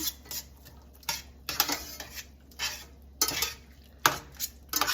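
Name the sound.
stirring onions into browning burger in pan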